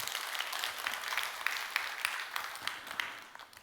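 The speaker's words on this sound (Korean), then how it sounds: "우리 크게 박수 한번 하시겠습니다." A church congregation at a Wednesday service applauds, a soft, even wash of many hands clapping heard from a distance with a few sharper claps standing out, fading toward the end.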